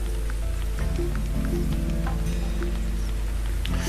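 Steady rain pattering down in the hunting game The Hunter, a continuous wash of drops on surfaces with faint scattered ticks, even and unbroken throughout.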